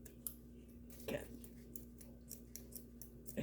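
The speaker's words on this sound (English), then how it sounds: "My scissors don't want to cut it." Scissors snipping through folded paper book pages during a book-folding craft, giving a few sharp crisp snips alone at close range with quiet gaps between.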